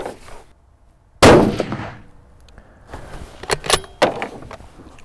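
A Bergara B-14 HMR rimfire rifle fires once, a sharp loud crack with a ringing steel-target clang trailing off, followed by softer clicks and metallic handling noises from the bolt.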